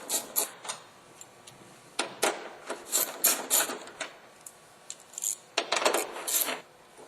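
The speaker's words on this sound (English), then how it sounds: "we'll need a 10mm deep socket and ratchet to take those out" A 10mm deep socket on a ratchet backs nuts off the rear of an Oldsmobile Alero light assembly, giving a run of sharp metallic clicks and rasps in uneven bursts, close up and moderately loud with no talking.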